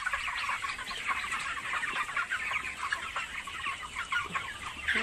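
Many 31-day-old broiler chickens clucking and chirping together inside a poultry farm shed, a dense continuous chorus at moderate distance.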